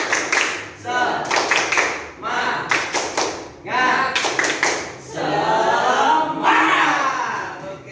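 Several students in a classroom clap out a quick rhythmic cheer in short bursts, with shouting voices joining in and chanting toward the end.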